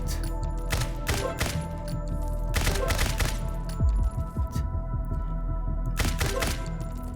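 Video game gunfire in Combat Master's shooting range, with repeated loud bursts of rapid shots separated by short pauses over a constant low hum.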